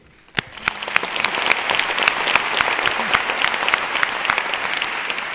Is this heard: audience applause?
yes